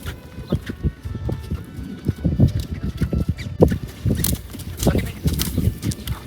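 Horse cantering at liberty in an arena, a rhythmic run of close hoofbeats thudding over soft ground, with a person's voice speaking over it.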